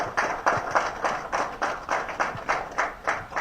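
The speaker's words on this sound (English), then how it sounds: "Please give me a big round of applause." Rhythmic, evenly spaced clapping from an audience at a public address, a steady beat of distinct claps repeating about three times per second without letup.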